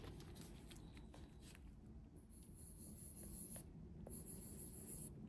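Wax crayon dragged over paper on a heated silicone mat, a close, continuous scratchy rubbing with short strokes and small taps, heard on its own without talk.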